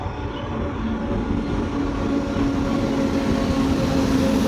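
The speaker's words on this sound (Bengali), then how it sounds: "এই যে এটা লালগোলা যাবে, শিয়ালদা থেকে ছেড়েছে, শিয়ালদা লালগোলা প্যাসেঞ্জার।" The Sealdah–Lalgola passenger train rolls past nearby as a steady low rumble, with faint tonal hums from the wagons holding at an even loudness throughout, and no voices over it.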